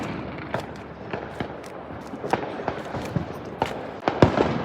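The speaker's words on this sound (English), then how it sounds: "This is the fireworks." Fireworks pop and crack in a fairly distant outdoor display, sharp irregular bangs coming every half second or so, a couple of bigger booms near the end, no voices heard.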